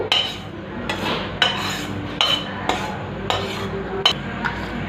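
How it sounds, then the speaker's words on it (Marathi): A metal utensil scrapes and taps against a pan several times in an irregular rhythm, roasted semolina shifting with each stroke as it is moved into a wide plate, close by. "रवा इथे आपण एका पसरट भांड्यामध्ये म्हणजे परातीत काढून घेऊ"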